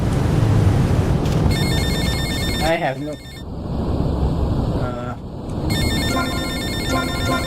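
A cell phone in the Dreamcast port of GTA Vice City rings repeatedly in electronic trill bursts over ocean surf and wind, while someone speaks briefly.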